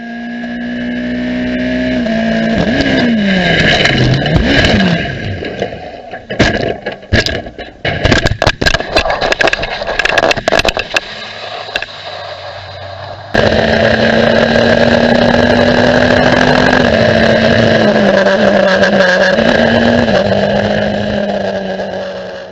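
Formula 1 race cars roar loudly around a track during a crash, with rising and falling engine whines, an abrupt cut in the middle, and then engines droning on.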